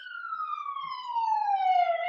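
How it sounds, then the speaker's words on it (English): A single siren wails in a long downward-gliding tone with strong harmonics, loud and close, with no other sound around it. "there's a siren."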